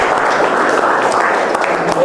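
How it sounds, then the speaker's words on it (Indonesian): A group at a mosque management lecture claps together, a dense, continuous patter of applause filling the room at moderate loudness, with some voices mixed in. "Baik, tepuk tangan untuk kita semua."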